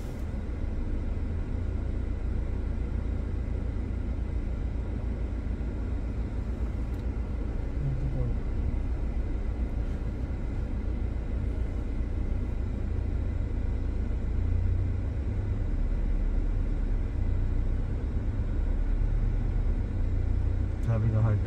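A 2024 next-generation Ford Ranger Raptor straining in four-wheel drive gives a steady low engine rumble and drone that runs continuously and close, with someone talking over it at times.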